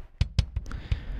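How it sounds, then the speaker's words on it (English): Kick drum track routed to a kick bus in a rock mix, a few soft solo thumps at uneven spacing, fairly quiet and dry with no other instruments. "I took this entire kick track, sent it to the kick bus. It sounds like this."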